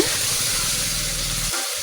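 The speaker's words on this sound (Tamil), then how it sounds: "இந்த சமயத்தில் நம்ம மேக்னேட் பண்ணி வச்சுருக்க சிக்கன் ஆட் பண்ணிக்கோங்க" Marinated chicken hits hot oil in a pan with golden-fried sesame seeds for a hotel-style chicken gravy, giving a loud, steady sizzle and hiss that cuts off abruptly near the end. No one talks.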